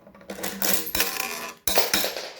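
A parrot drops coins, several metallic clinks and jingles landing in quick succession, close and bright, with short pauses between bursts.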